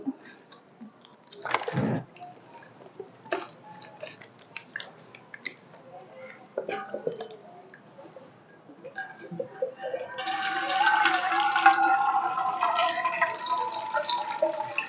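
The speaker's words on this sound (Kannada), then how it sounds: "ಈಗ ಬಾಟಲಿಯಲ್ಲಿ ನೀರನ್ನು ತುಂಬಿಕೊಂಡು ಇದನ್ನು ಕೆಳಮುಖವಾಗಿ ಹಿಡಿದುಕೊಂಡು ಸ್ವಲ್ಪ ತಿರುಗಿಸಿ ನೀರನ್ನು ಕೆಳಕ್ಕೆ ಬಿಡುತ್ತಿದ್ದೇನೆ" Water pours out of an upturned bottle as it swirls into a vortex, starting with scattered drips and gurgles and building into a steady gushing, bubbling flow near the end, close and moderately loud.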